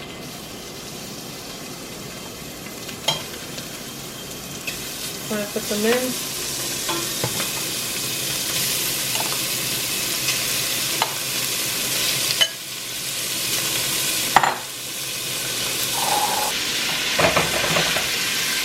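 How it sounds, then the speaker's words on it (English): Loud, close sizzling of steak hitting a hot pan for lomo saltado, with a few knocks of utensils and a brief spoken remark. "You just want to let this fry up for a couple minutes."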